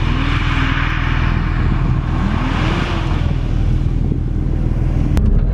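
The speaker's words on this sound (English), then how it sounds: "it sounds like your car" Car engine droning steadily throughout while driving, with a low rumble and slight pitch rises as it accelerates, loud and close, likely a Porsche at the Silverstone experience centre.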